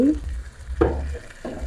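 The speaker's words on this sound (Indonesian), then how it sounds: "kita aduk lagi sampai rata" Shrimp in oyster sauce stirred in a pan after water has been added, short bursts of sizzling and scraping with low rumble between strokes, loud and close.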